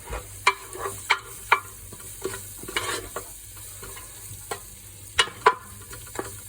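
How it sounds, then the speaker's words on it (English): Leeks sweating with a pinch of salt in a pan give a low steady sizzle, broken by several sharp scrapes and clacks as a spoon stirs them, with no talking. "Just put a little pinch of salt in with those, just to stop them browning up so much. We're just going to sweat those down."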